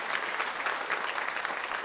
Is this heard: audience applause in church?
yes